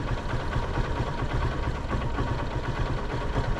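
A carbureted 2012 motorcycle engine idles alone at a steady, fairly loud rumble above 1000 RPM, with a continuous low throb and slight roughness throughout.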